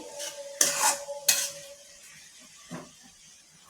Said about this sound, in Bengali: ভালোভাবে নেটে নিচ্ছি